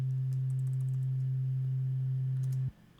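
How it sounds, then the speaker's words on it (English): A synthesizer sounds a single steady sine-wave note, pure and unwavering, held loud and alone for about two and a half seconds before cutting off abruptly into near silence. "this is just a standard sine wave playing a single note"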